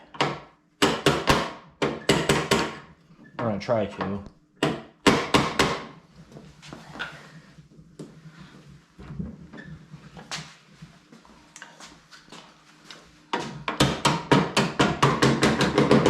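Hammer blows knocking a part into a new door on a diesel dually truck: loud, sharp metallic strikes in irregular bursts, a quieter stretch in the middle, then rapid repeated hits, with brief talk near the start.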